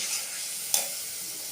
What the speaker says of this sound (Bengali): আমার মশলাটা ভালো করে কষাই নিতে দেবো